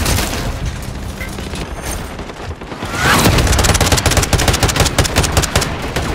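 Gunfire in Call of Duty MW3: scattered shots early, then dense, rapid automatic bursts from about three seconds on, loud and close, with a voice briefly heard over the noise.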